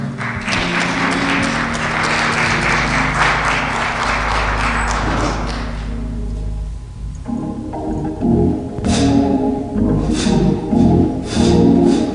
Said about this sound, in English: you give this group a great big round of applause